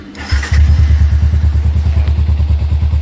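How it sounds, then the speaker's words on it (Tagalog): A motorcycle engine starting up during a diagnostic tool check, cranking briefly before catching into a loud, close, steady idle with a regular thumping beat. "So start natin yung motor."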